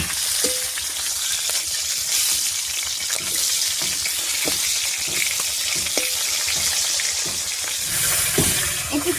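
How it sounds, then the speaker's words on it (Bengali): Fish head frying in plenty of mustard oil in a wok, a steady loud sizzle running throughout with occasional short stirring clinks and scrapes, no voices. "একটু সময় নিয়ে মাছের মাথাটা ভেজে নিয়েছি"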